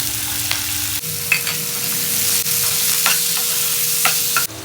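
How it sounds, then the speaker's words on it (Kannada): Onions fry in oil in a pan for channa masala, a steady close sizzle with occasional soft stirring scrapes and a faint low hum underneath, no talk. "ಈರುಳ್ಳಿ ಸ್ವಲ್ಪ ಫ್ರೈ ಮಾಡ್ಕೊಳ್ಳೋಣ."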